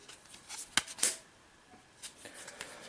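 Marvel Champions playing cards are drawn and handled on a table, a few quick soft snaps and slides of card stock at close range, quiet and without talk.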